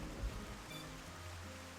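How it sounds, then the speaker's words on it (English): Steady rainfall in the Xenoblade Chronicles game world, a constant broadband hiss with low rumbling undertones, even and unbroken throughout. "It's still raining."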